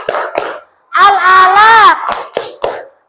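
A class of pupils with their teacher claps together in a classroom while chanting about Surah Al-Alaq. Crisp group claps break up loud, close voices singing and speaking.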